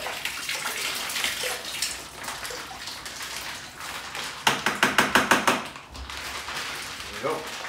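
Warm water sloshes and swirls inside a plastic wine kit bag before being poured out, rhythmic splashing bursts near the microphone with faint quiet talk at times.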